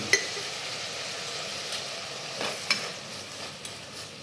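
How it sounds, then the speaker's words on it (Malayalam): Chopped tomatoes with rock salt and curry leaves are sautéed in a pan, giving a soft, steady sizzle punctuated by several sharp clinks of a spoon stirring against the metal. "എല്ലാം കൂടി ഒന്ന് വഴറ്റിയെടുക്കാം"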